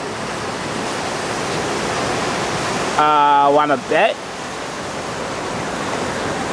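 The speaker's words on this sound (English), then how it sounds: "that's why I'm recording our conversation and I'm recording the ocean" Ocean waves roll onto a beach in Thailand as a steady, broad wash of surf noise that runs throughout, briefly interrupted by a short spoken phrase partway through.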